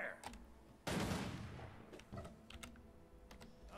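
Gunfire in Guild Wars 2: a sudden loud burst that fades over about a second, followed by several sharper, quieter shots and clicks in a quiet game setting.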